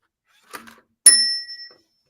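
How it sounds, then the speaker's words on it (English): A bell rung during a quiz game gives one bright, clear ding that rings out and fades after a short soft knock, close and alone in silence. "I get the bell."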